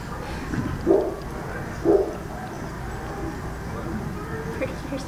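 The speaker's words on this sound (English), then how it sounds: "Birdie hears the dogs." Two short dog barks at a dog beach, a second apart, with a faint third later, heard at a moderate distance over steady background ambience and talk.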